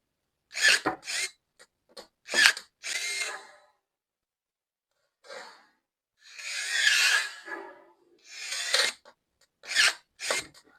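ProCraft ES32LI cordless pruning shears snip through branches in a series of short, sharp cutting bursts with brief crunching rasps, close and alone with gaps between cuts.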